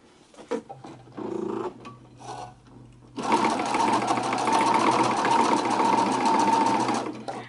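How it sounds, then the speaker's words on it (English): A sewing machine stitches Velcro to a bag lining close to the edge, a short burst of stitching, then a pause with handling noise, then a steady, loud, continuous whirring run. "sew this Velcro to the lining, and just do it as close to the edge as possible"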